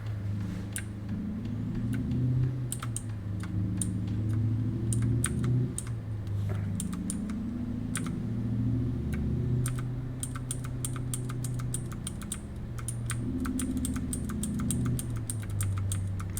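Rapid keyboard clicks in bursts rattle over the steady low drone of a truck engine in a driving game played with keyboard controls. The typing is close and continuous, with no talk.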